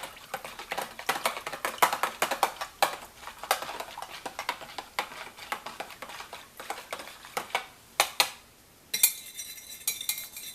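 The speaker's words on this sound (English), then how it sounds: "just give it a good little stir there" A spoon stirs a cucumber melon soap mixture with light, irregular clinks and scrapes against the container, quiet and close, with no talking.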